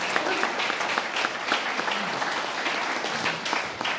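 An audience gives a big round of applause for a singer at a community mental health and wellbeing launch, a sustained wash of clapping heard fairly close and loud.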